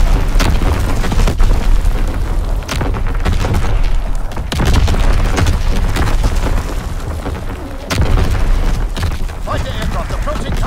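Repeated heavy explosions from an artillery strike thunder through a Call of Duty WWII match, several loud booms landing in irregular succession over continuous battlefield noise.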